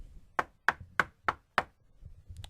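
Knuckles rapped on a microphone imitate a knock on a door: five sharp, evenly spaced knocks, close and distinct against near silence, followed by a faint trailing tap.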